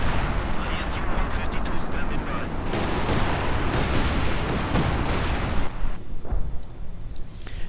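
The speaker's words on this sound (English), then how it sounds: "The ISU-152 firing away." ISU-152 self-propelled gun firing in the Company of Heroes 2 real-time strategy game: dense, continuous battle noise with repeated heavy artillery booms and gunfire layered over a rumbling low end, a voice talking over the action throughout.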